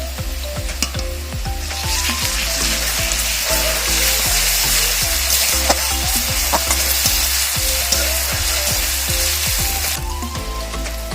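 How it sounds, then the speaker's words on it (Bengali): Garlic goes into browned onions frying in a pan, giving a loud, continuous oil sizzle with repeated scraping stir strokes throughout and a brief surge of hissing near the middle. "পেঁয়াজটা ভাজা হয়ে গেছে, লাল লাল হয়েছে। এরপরে আমি রসুনটা দিচ্ছি।"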